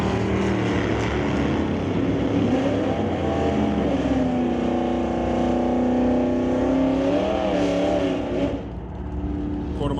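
Drag racing cars, a Horizon Paint Chevy II and a 1979 Impala, roar continuously with rising, wavering engine pitch over steady loud drive noise that fades slightly near the end.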